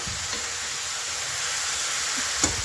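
Chopped onions fry in a hot pan with a steady, even sizzle that fills the whole stretch, with a faint clink or two near the end and no talk over it.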